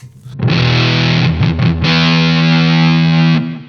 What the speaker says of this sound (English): the muffletter by itself sounds a little something like this